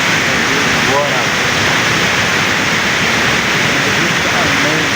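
Hidden waterfall at Koromosho, a steady, loud rushing roar of falling water that stays constant throughout, with faint murmurs of voices beneath.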